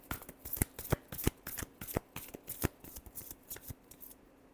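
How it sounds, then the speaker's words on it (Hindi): Tarot cards shuffled by hand, a quick run of crisp riffling flicks and taps in an uneven rhythm, close and fairly quiet, with no talking. "Last shuffle."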